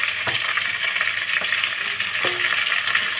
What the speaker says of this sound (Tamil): லைட்டாக வதக்கி விட்டுக்கலாங்க